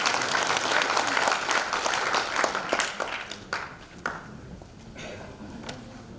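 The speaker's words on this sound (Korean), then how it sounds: "뜨겁게 박수로 맞이해 주시기 바랍니다" A seated audience applauds to welcome a law professor to the podium at a constitutional reform debate forum, dense steady clapping that thins and fades over several seconds.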